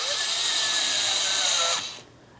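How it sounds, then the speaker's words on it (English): A power tool with an 8mm driver whirs steadily at close range, loosening an air intake hose clamp on a 2004-2008 Pontiac Grand Prix 3.8L V6, then stops abruptly. "For these clamps, I'm using an 8mm, but you can also use a flat blade screwdriver."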